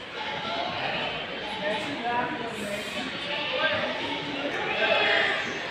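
Goats of the Ajmera breed bleat amid the dense, steady crowd noise of a busy livestock market, the calls faint and blended into continuous background chatter.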